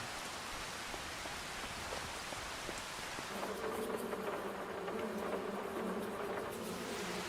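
Steady rainfall in Farming Simulator 25 on the Riversbend map, a soft continuous hiss that thickens after a few seconds into a fuller downpour with a low rumble underneath, alone with no talk.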